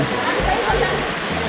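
A continuous rushing splash of water falling from above at a waterfall at Bhairavakona temple, broad and steady, with a voice talking over it.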